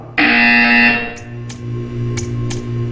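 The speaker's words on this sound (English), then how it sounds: "You will hear a buzzer. When you hear the buzzer, stare at the art." A loud, harsh electronic buzzer from the video game Portal 2 blares steadily for about a second, then gives way to a low hum with several short, fainter electronic blips.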